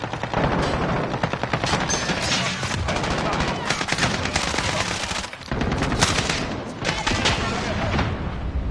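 Dense, continuous gunfire in a video game, rapid automatic bursts layered with heavier booms, loud and close throughout, with faint in-game voice callouts mixed underneath.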